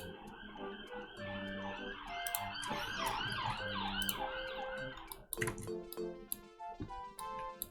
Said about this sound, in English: Again, sorry about the sirens.